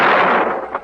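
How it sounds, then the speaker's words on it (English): A single sharp gunshot from a 1957 British crime film set in London's black market, loud and close, with a bright crack followed by a short fading echo. "other guns spat in the London nights"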